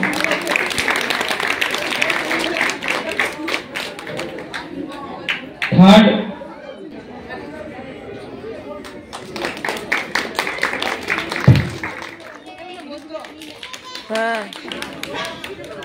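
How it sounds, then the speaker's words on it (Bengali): Children clapping hands at a school Saraswati Puja program, bursts of rapid claps mixed with chatter and speaking voices, with a few louder thumps. "সেকেন্ড একটু জোরে হাত তালি।"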